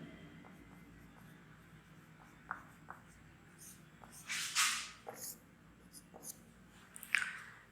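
Pen or marker writing notes during a Hindi child development lesson, with scattered soft strokes and a few sharper scratchy bursts, close and fairly quiet over a low background hum.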